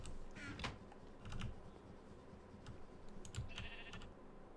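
A Minecraft sheep bleats faintly twice, early and late, over steady background hiss and soft keyboard clicking, with no one speaking.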